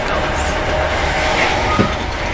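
A London Underground tube train rumbles along at speed, giving a loud, steady roar from inside the carriage with a faint squeal high above it and one brief knock near the end.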